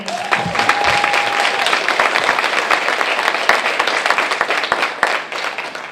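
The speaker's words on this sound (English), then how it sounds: "Let's give them a round of applause." An elementary school audience applauds its teachers at a graduation-style ceremony, a dense, steady wash of many hands clapping that fills the room for several seconds, with a brief tonal whistle-like sound early on.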